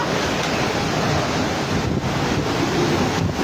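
Storm waves and wind from a super cyclone on a coast make a dense, steady roar of surf and gusting wind buffeting the microphone, loud and unbroken.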